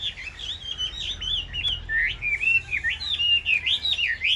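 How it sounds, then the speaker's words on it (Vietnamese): An Oriental magpie-robin sings a lively run of varied whistled phrases and warbles, loud and close, repeating in quick bursts over faint background noise. "chòe than thì đang hót này."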